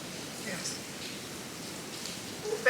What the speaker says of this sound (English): Rain, guys. Bare rain.